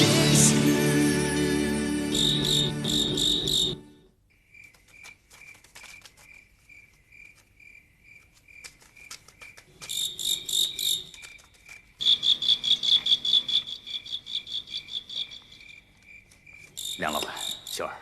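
A red-eyed fighting cricket chirps in bursts of rapid, shrill trills separated by quieter gaps, with a thin steady tone and soft ticking under some stretches, heard near and fairly loud.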